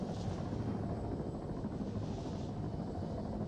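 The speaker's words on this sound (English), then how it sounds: "Enemy chopper coming towards us" An enemy helicopter in the video game Arma 3 approaches, its steady, broad engine and rotor rumble filling the scene at a constant level without talk.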